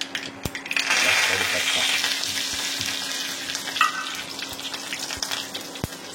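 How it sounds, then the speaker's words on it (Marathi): Mustard and cumin seeds crackle in hot oil, a dense, fairly loud sputter with sharp scattered pops that holds steady throughout, with no talking. "इकडे रायजिरी कशी तडतरायला लागली तेलमध्ये."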